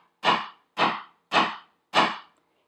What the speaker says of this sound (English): So I'm going to hammer this.